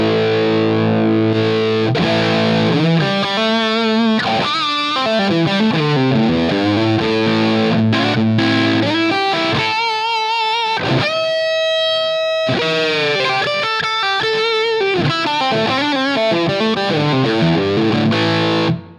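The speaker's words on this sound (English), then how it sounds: "We've basically forced a little more distortion out of this amp model that we had before, even at bias 5." Electric guitar played through a Line 6 Helix amp model with its bias setting changed, heavily distorted chords and riffs ringing loud and continuous for the whole stretch, with no talking.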